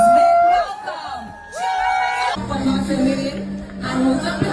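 Studio audience cheers and whoops as a woman named Chioma is welcomed onstage at a celebration event, a loud swell of crowd noise with yells over a steady musical backing, rising again after a brief dip.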